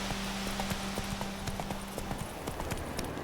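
Hoofbeats of Roach, a horse in The Witcher video game, clip-clop in a steady trotting rhythm, crisp and close over a constant low in-game hum, with no voices.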